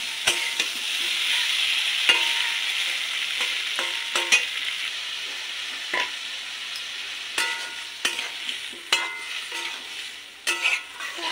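Potatoes and soybean chunks stir-fry in a pan with a continuous bright sizzle. A spatula scrapes and clicks against the pan again and again, fairly close.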